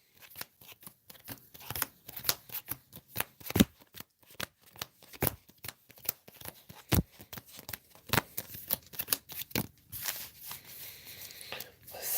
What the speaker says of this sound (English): I'm going to try power shuffling